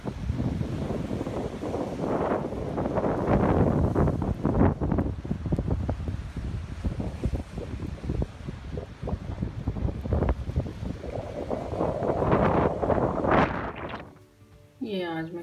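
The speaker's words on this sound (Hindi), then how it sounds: "बहुत तेज़ हवा चल रही थी और बारिश भी हो रही थी" Strong wind gusting outdoors with rain, a broad rushing roar that swells and buffets the microphone throughout, with a brief lull near the end.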